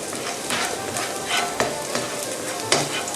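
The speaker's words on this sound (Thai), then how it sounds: "พอกระเทียมหอมเราจะใส่ซอสต้าซี่ลงไปนะคะ" Loud, steady sizzling fills the whole clip as tao xi (fermented soybean) sauce hits a hot wok with garlic, with occasional clinks and scrapes of stirring.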